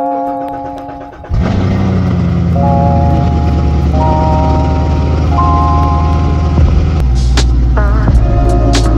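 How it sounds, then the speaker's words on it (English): A tow truck arrives to collect a Z06 Corvette. Its engine kicks in abruptly and then rumbles loud and close in a steady drone for several seconds, with a few higher whining tones riding on top. "Waiting for the tow truck to come. It's actually right there."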